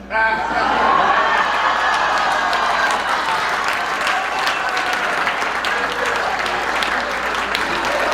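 At a Juneteenth celebration, a crowd applauds and cheers keynote speaker Mayor Willie Brown, loud continuous clapping with whoops and voices mixed in, staying strong throughout.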